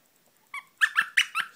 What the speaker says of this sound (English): Squeaky layer. Dogs like that.